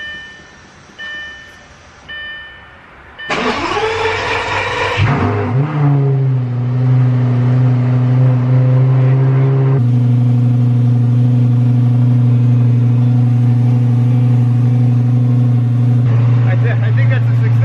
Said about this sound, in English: we're going to do a startup and make sure there's no exhaust leaks